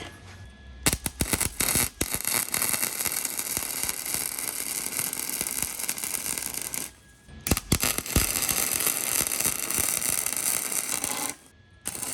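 Tack welds on a CFMOTO muffler for a lifted golf cart build, a harsh crackling arc buzzing close in long bursts, broken by two brief pauses.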